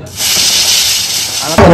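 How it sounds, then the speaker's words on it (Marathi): A pressure cooker whistle blowing off steam while mutton curry cooks: a steady, loud, high hiss with a thin whistle tone holds for over a second, then cuts off into a brief louder clatter. "आता लास्टची शिट्टी कुकरला मारायला लावू"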